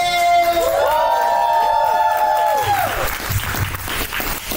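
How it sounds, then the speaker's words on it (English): Crowd at a poetry slam event applauding and cheering loudly and steadily, with a few voices calling out over the clapping as it tapers off. "Please clap it up"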